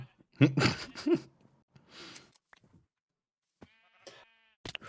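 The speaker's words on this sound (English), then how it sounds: "There's actually a fair amount of sheep." Sheep bleating in the Minecraft video game, a few strong close bleats early on followed by quieter scattered game sounds and a brief chime-like tone near the end.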